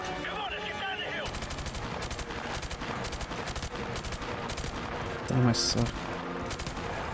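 Dense, continuous gunfire in Call of Duty: Modern Warfare Remastered, rapid automatic bursts rattling loudly throughout with a heavier blast near the middle, while a player talks over the shooting.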